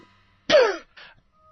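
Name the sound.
coughing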